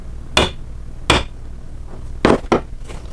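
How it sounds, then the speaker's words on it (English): Four sharp hammer raps on a wooden piece marking dowel positions, two spaced knocks then a quick pair, crisp and close. "give it a quick whack"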